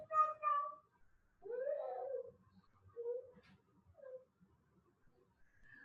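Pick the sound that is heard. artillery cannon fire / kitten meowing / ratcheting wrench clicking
kitten meowing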